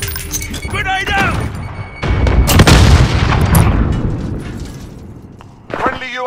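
Thrown grenade detonating in Call of Duty: Modern Warfare multiplayer, one loud sharp blast with shattering debris that rumbles and fades over a few seconds, with brief voice callouts before and after.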